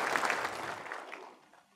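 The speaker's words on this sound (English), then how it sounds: "I couldn't hear because they were clapping so loud" A church congregation applauding loudly, a dense burst of clapping that fades out over under two seconds, with no talk.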